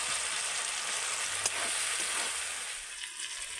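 Whole boiled jackfruit curry sizzles and fries in a pan with spices being stirred in, a steady close crackle with one brief clink of the spoon partway through, fading slightly toward the end.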